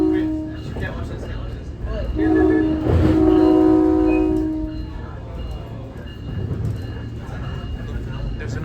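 A SMART Nippon Sharyo DMU #112 train heading northbound sounds its horn in a loud, sustained blast that swells and fades over a rumbling ride, with people talking nearby.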